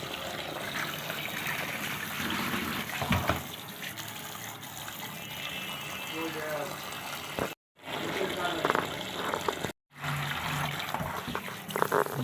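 Fresh deshi koi fish are washed under running water, a continuous gushing, splashing stream with a few brief breaks, while someone talks over it.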